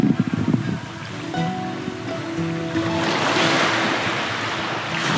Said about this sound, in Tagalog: Ang ganda ng dagat dito pag umaga.